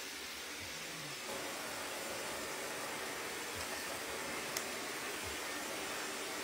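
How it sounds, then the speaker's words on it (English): An old blow dryer runs steadily with a constant airy roar that shifts slightly in tone early on and stays unbroken, with no voices. "I think my blow dryer is like dying."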